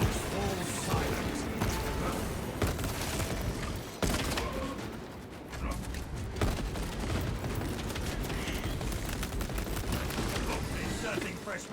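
Dense, rapid gunfire and heavy impacts fill a sci-fi shooter battle against a Tyranid gun beast, loud and continuous bursts with crashes, while voices talk over the combat.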